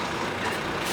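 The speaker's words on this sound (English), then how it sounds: "It's a concrete mixing lorry." A concrete mixing lorry arrives, its heavy engine rumbling steadily and close with a broadband mechanical roar throughout.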